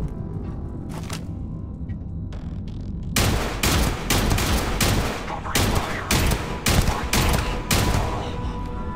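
Repeated gunfire from a firefight in the video game Starfield, beginning with sparse shots and building after a few seconds into loud, dense bursts of rapid shots with short gaps between volleys, close and dominant with no talking.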